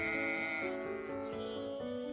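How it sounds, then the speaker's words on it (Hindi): A goat bleats in drawn-out, quavering calls, two or three in a row, close and clear over a sustained tonal background. "एक बार एक बकरी थी।"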